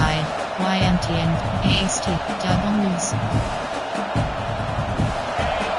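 Stadium crowd at a football game roaring and cheering behind the defense on third down, a dense sustained wall of noise with scattered whoops and shouts, fairly loud throughout.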